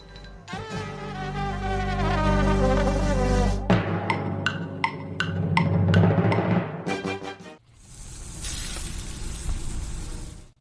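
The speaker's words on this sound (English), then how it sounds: "That's the sound of sizzling, dry-aged USDA Prime Wagyu and Angus steaks" Buzzing, tonal sounds give way to a loud, steady hiss of dry-aged USDA Prime Wagyu and Angus steaks sizzling on a hot surface, lasting the final few seconds.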